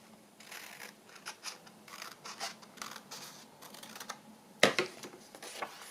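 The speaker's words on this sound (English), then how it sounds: "I just need to straighten it up a little bit with my scissors." Scissors make short, crisp snips while trimming the edge of paper for a handmade journal envelope, a run of close, quiet cuts with small pauses and one sharper snap near the end.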